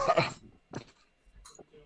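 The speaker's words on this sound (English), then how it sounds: "just kind of coughs" A couple of short, throaty coughs close by, separated by brief pauses, followed by faint small sounds.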